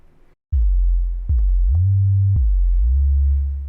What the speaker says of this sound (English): these gliding 808s